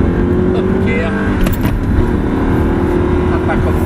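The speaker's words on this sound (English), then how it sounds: "we're coming onto a big straight, so we're just going to build the power through the car nice and gently" Audi R8 engine building power on a straight, a loud continuous close engine roar with a gear shift partway through, and people talk over it.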